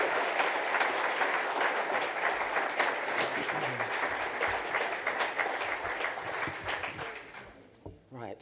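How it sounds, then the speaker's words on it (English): A conference audience applauding Graham Ives: dense, sustained clapping from a large room that holds steady, then tapers off and fades near the end. "please give a huge round of applause for Graham Ives."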